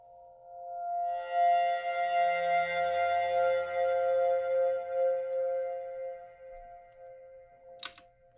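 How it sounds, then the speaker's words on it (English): A sustained, ringing feedback tone from an overdriven spring reverb, with layered overtones, swells and slowly fades, ending with a brief click; fairly quiet and heard alone. "this is me just overdriving the spring reverb"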